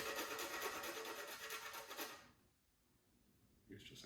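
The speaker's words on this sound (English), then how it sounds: "I thought you were supposed to grate cinnamon." Cinnamon stick rubbed on a kitchen grater, a dense rasping scrape for about two seconds that then stops, leaving near silence before a faint bump at the end.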